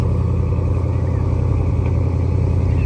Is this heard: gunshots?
no